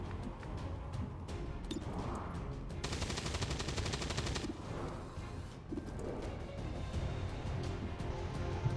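Sniper gunfire in the XCOM 2 War of the Chosen video game, a string of crisp shots and a brief rattling burst mixed with ambient game sounds and bird-like cooing, with no talking.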